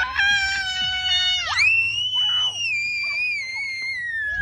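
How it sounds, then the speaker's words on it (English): Children scream loudly and repeatedly nearby in a residential neighborhood, long piercing shrieks that rise and fall with brief pauses between them. "Those screaming guys in my neighborhood."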